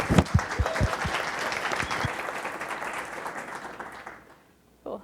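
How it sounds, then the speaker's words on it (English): A conference audience applauds with dense clapping that holds steady for about four seconds, then fades out quickly before a brief noise at the very end. "applause, Jessie."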